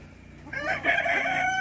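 Hens calling inside a chicken coop, with drawn-out, tonal clucking and squawking that swells after a quieter start and stays close and fairly loud, with no talking.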